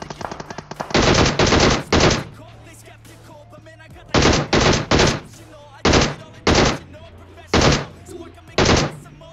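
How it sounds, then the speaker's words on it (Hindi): Gunfire from a mobile shooter game played on an iPad mini 5, loud rapid bursts of automatic fire coming in clusters, separated by brief quieter gaps with faint game ambience. "इधर एक बंदा ओपन में फायर कर रहा था बॉट को"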